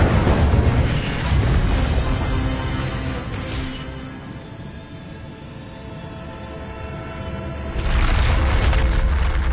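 The Incendio fire spell is cast in Hogwarts Legacy, a loud close roaring whoosh of flame that swells, eases off for a few seconds, then surges again in a heavy burst.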